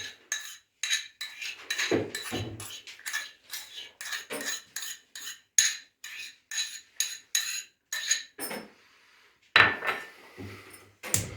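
Quick metallic clinks and clatters of utensils against a small pot as cream is poured in, coming in a steady series of short taps with brief pauses between them.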